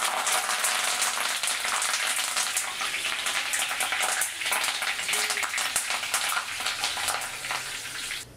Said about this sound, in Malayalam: ഞാൻ കുറച്ച് കറിവേപ്പില നമുക്ക് ഗാർണിഷ് ചെയ്യാൻ വേണ്ടി കുറച്ചൊന്ന് വറുത്തെടുക്കാം